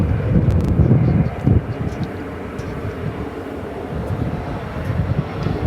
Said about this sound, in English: There's an E-Jet